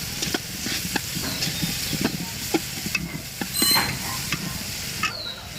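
Chopped onion and minced garlic sizzle and crackle in a pan over a village clay stove, a steady frying hiss broken by repeated spoon scrapes and stirring clinks.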